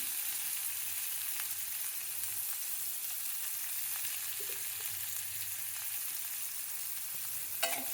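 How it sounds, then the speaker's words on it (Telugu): Onions frying in a pan for mutton with bottle gourd give a constant broad sizzle from start to finish, close and even, with a small scrape near the end. "ఉల్లిపాయలు కొద్దిగా వేసి వేగనివ్వాలి"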